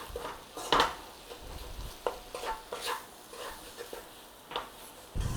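Flour stirred into a pan with a spoon for curried sausages, giving soft scraping and clinking strokes with a faint sizzle beneath, moderately close and without talk.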